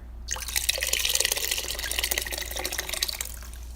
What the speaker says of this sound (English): I'm just going to pour all the contents in there.